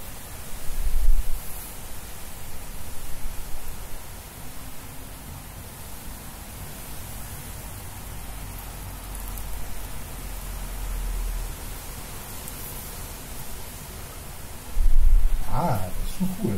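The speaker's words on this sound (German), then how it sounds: "damit man den Wind auch besser hört" Autumn wind blows steadily in Manschnow, Germany, with a broad rushing hiss and occasional low gusty buffets against the microphone.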